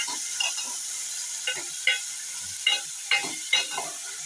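Onions sautéing in a pan with two dried red chilies, then bottle gourd going in, giving a faint steady sizzle broken by a series of scraping stirs and light clatters, close by.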